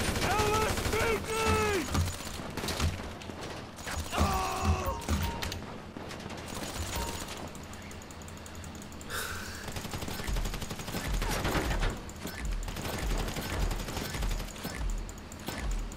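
Bursts of gunfire ring out in GTA 5 Online during a jailbreak mission, scattered shots and rapid volleys at middling distance amid shouting voices and mechanical clatter.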